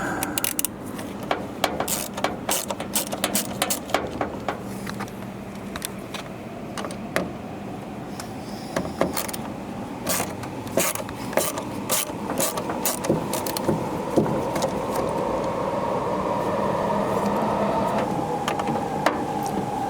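Bolts being loosened and removed from the backup camera mount on a Chevrolet Express / GMC Savana van, with a rapid series of sharp clicking, ratcheting taps and small metallic knocks close by over a steady background hum.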